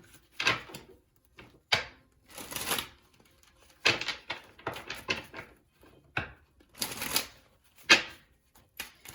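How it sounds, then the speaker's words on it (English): Tarot cards are shuffled in repeated bursts, riffling and slapping against each other close by, with brief pauses between each shuffle. "Let me give this deck another shuffle"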